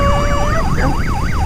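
A police car siren wails in a loud, rapid up-and-down sweep during a high-speed chase, close and steady, with road and engine noise rumbling underneath and no voices.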